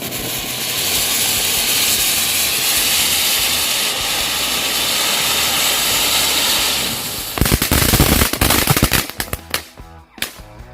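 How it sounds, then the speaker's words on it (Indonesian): A conic 3-in-1 fountain firework burns with a steady loud hiss and spray for several seconds, then breaks into sharp crackling pops and bursts toward the end. "Conic fountain 3 in 1."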